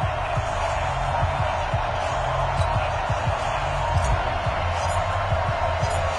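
A packed NFL stadium crowd roars in an EA Sports football video game before a Chicago Bears versus Carolina Panthers matchup, a steady, dense wall of cheering with scattered thumps and claps running throughout.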